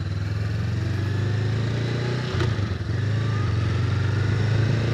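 A 2025 Honda Rebel 500 cruises in fourth gear at about 35 mph on a busier road, its engine a steady close throb with a brief dip and shift partway through, wind noise around it.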